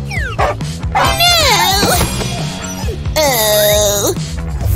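A dog in an animated comedy scene yelps, whines and barks in a rapid string of high, sliding cries, loud and close over a busy music-and-effects bed.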